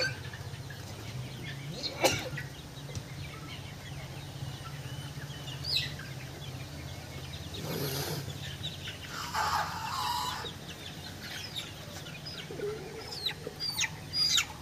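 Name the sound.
chicken clucking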